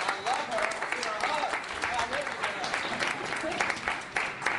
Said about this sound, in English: we should give her an applause